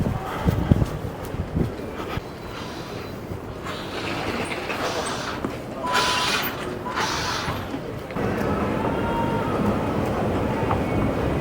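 An Amsterdam GVB metro train running, a steady loud rumble and rattle of wheels and carriage with whining motor tones that swell midway and settle into a constant drone.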